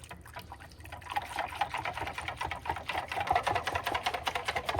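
Unflavored gelatin being stirred into water in a mixing cup, rapid rhythmic clicking and scraping of a utensil against the cup with light liquid sloshing, growing busier and louder.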